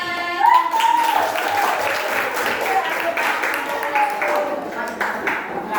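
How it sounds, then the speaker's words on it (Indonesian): Audience applause from a school group during an academic supervision session, steady clapping that holds for about six seconds, mixed with voices and talk throughout. "Beri tepuk tangan."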